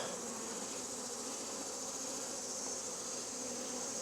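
Honey bees buzz in a dense, steady swarm drone, close and continuous, as they are knocked off a fully capped honey frame during an August honey harvest.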